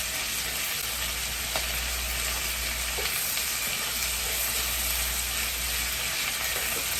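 Steak and shrimp being tossed in butter sizzle loudly and continuously, a close, steady frying hiss with occasional faint clicks of utensils and no voices.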